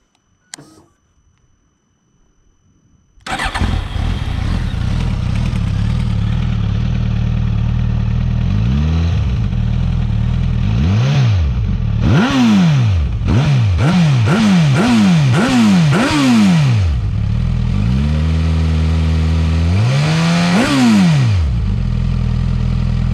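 A 2022 Suzuki GSX-S1000 motorcycle engine idles loudly through its exhaust, then blips its throttle in a series of sharp revs, settles briefly, and revs again near the end.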